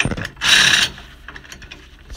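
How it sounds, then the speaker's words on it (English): A ratchet wrench with an adapter and socket tightens bolts while a Safe-T-Plus steering stabilizer is fitted on a 1999 Fleetwood Discovery motorhome, giving a short, loud burst of rapid ratcheting clicks followed by quieter metallic handling. "we'll get our wrench, which we have here, and the adapter and our socket. And we'll start to tighten these up."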